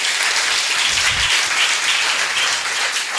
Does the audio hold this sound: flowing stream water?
no